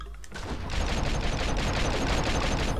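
Gunfire in The Matrix: Path of Neo: a loud, close, continuous volley of rapid shots that starts after a brief lead-in and hammers on steadily to the end.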